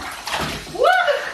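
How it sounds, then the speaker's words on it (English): A baby splashes water in a bathtub at home, a short burst of sloshing and splattering close by, followed by a rising vocal squeal from the child. "That was huge. Nice splashes, baby."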